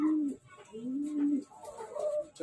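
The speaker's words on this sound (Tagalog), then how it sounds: "Mga Bio Pigeon natin." Young pigeons coo softly in a loft, low rolling calls repeating close by, with faint human voices in the background.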